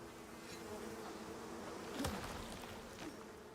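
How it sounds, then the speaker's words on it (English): Steady buzzing of bees inside a cave in the survival game Icarus, a continuous insect drone with a slightly louder swell midway, heard alone without speech. "bees."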